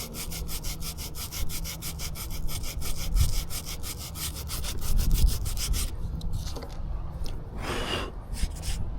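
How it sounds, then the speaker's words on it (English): Rapid rhythmic back-and-forth scraping of hand sanding a surface flat during a Gluetread installation, close and steady for about six seconds, then a few slower, lighter strokes. "Okay, sand a little more."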